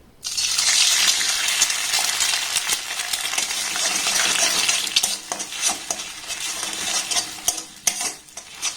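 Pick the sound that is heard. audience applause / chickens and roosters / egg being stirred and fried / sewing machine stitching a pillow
egg being stirred and fried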